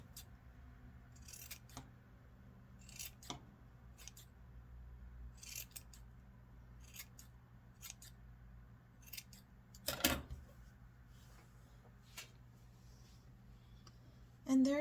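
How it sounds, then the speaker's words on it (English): Scissors snip through the bottom loops of a handmade yarn tassel in a run of quick, sharp clicks spaced a second or so apart, close and clear over a low steady hum, with a louder cluster of cuts near the end. "Now you are going to cut the bottom part."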